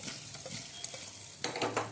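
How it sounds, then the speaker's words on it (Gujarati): Stuffed brinjal curry is stirred in hot oil in a pan, giving a close, dense sizzle with soft scraping that swells louder near the end as the mixture is turned. "હવે આપણે તેલમાં હલાવી લઈશું આને."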